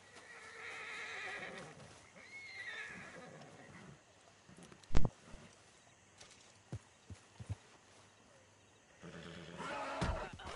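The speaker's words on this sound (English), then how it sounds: "Let's revive this horsey." Horse being revived in a PS5 video game, with a loud whinny and neighing at the start and end, hoof thuds and clops in between, and game music underneath.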